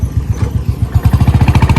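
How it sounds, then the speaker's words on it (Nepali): A Royal Enfield Bullet motorcycle with a misfiring engine thumps loudly and close, its low beat turning into a steady, fast series of punchy pulses. "बाइक फेरि भम्माएको छ"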